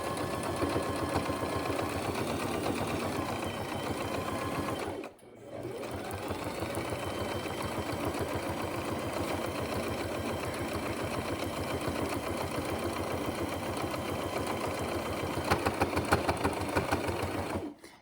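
Steady mechanical chatter of a sewing machine top stitching along the fabric edge of a zippered pouch, running continuously and close, with one brief pause before resuming at the same even pace until a stop at the end.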